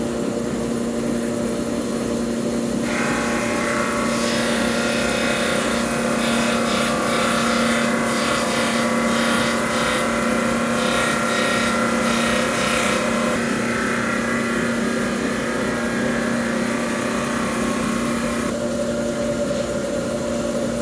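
A precision sectioning saw slices 1 mm sections from fish otoliths set in a grooved plate: a constant motor hum, then a sustained bright whine of the blade cutting for about fifteen seconds before it drops away.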